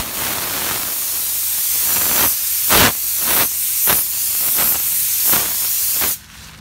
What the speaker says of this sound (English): If you pull the trigger halfway, you get nothing but air.